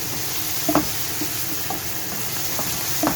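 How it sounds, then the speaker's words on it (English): Onions frying in a pan with red chilli paste and coriander stalks for a tikka madras, giving a steady close sizzle with a few soft stirring clicks and no talk. "And I help brown the onions a little bit as well."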